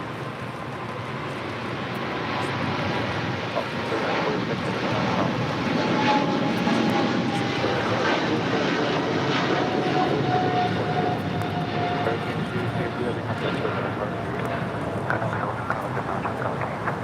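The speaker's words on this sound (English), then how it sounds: "That was China Cargo Airlines flight 222 heading back to Shanghai, the 777 freighter" A China Cargo Airlines Boeing 777 freighter takes off from runway 25 left at LAX, a loud, steady broadband jet roar sustained throughout with a faint whine, close and constant.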